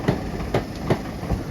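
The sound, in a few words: Class 325 parcel train passing, 325007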